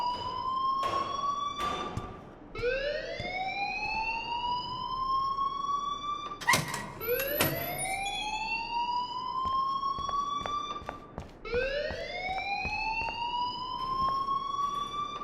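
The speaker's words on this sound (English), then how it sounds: "please turn off that alarm since that's your job" A wailing alarm siren in the video game Life Is Strange rises and falls in repeated sweeping cycles, loud and continuous across the whole stretch with no talking over it.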